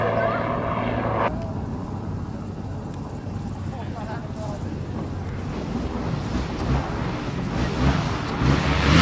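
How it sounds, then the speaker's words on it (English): A propeller aircraft flying an aerobatic display at a 1999 airshow in Breighton gives a loud, continuous engine roar that swells and fades as it passes, with a crowd and commentary mixed beneath. "demonstrating the aircraft's full aerobatic potential."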